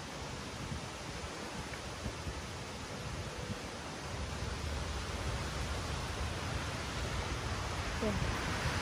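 Heavy storm rain and gusting wind make a dense, steady roar of hiss that swells slightly louder partway through, with no clear voices standing out.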